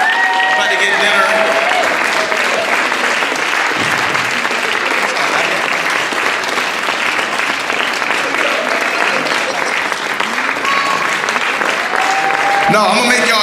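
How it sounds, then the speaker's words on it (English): Sustained applause from an audience at a student talent showcase, dense and steady for the whole stretch, with a voice faintly heard over the clapping near the start and end. "Y'all keep clapping"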